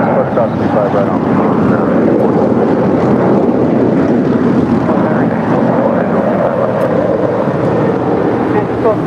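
An 18-year-old Atlas Air Boeing 747-400 freighter jet departs at LAX, a loud, steady broadband engine roar with wind buffeting the microphone, continuous and unbroken throughout.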